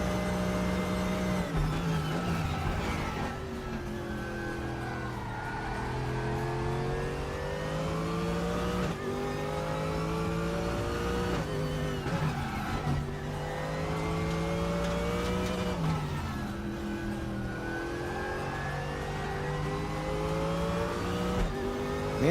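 Racing car engines in RaceRoom during a close Porsche battle: a continuous high revving roar rising and falling through gear changes, loud and steady, with no talking.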